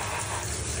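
Warm water runs from a tap to bathe a dog, a steady, soft gushing hiss that stays even throughout, fairly quiet and close, with no voices.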